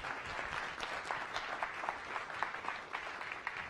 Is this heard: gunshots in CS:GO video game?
no